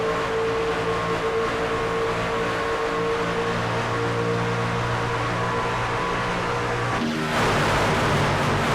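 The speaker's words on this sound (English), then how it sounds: "Love that sound as the trucks rocket by." Racing trucks roaring past on the AREA Truck Series oval at Michigan, a loud steady engine drone with layered tonal hums, then a sudden surge of broadband noise as a truck rockets close by.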